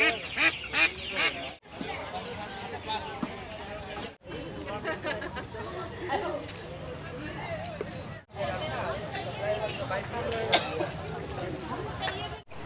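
Ducks and chickens for sale at a busy market in Dimapur, Nagaland, their quacks and honks scattered through dense crowd chatter and nearby talk across the whole stretch.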